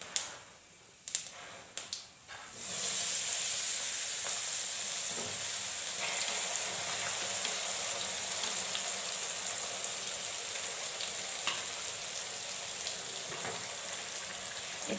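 A few sharp knocks give way to a loud burst of sizzling as mango pieces go into hot oil for mango pickle; the frying then hisses on steadily and evenly.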